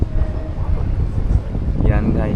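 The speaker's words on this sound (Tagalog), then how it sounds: "tapos sobrang hangin" Strong wind rumbles against the microphone by the sea in Taiwan, a constant low roar with a voice speaking over it.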